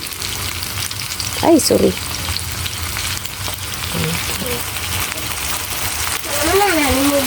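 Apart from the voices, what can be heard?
eggplant sautéing in pan with soy sauce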